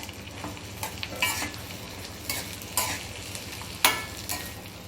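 Bitter gourd and garlic fry in a pan while being stirred, with a faint, steady sizzle broken by several short scraping swishes of the spatula, and no voices.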